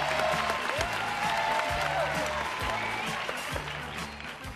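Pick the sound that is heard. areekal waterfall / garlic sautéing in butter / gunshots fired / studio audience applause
studio audience applause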